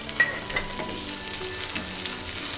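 French beans, carrot and other vegetables sizzle in a hot frying pan for masala pasta while a spoon stirs and scrapes, with a couple of light knocks early on and a constant soft crackle.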